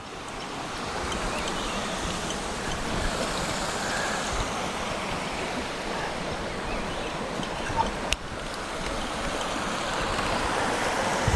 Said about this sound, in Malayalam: ഈ വെള്ളം ഇങ്ങനെ ഇവിടെ വീഴുമ്പോഴുള്ള ഒരു ശബ്ദം ഉണ്ടല്ലോ